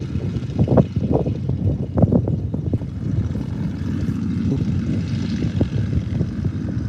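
A propeller airplane's engine drones steadily with a deep rumbling roar, mixed with wind buffeting on the microphone.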